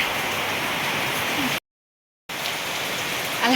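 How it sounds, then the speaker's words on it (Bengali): Steady monsoon rain pours outside, a dense, even hiss of falling drops heard from indoors, broken once by a short silent gap before resuming unchanged. "বাহিরে অনেক সুন্দর বৃষ্টি হচ্ছে"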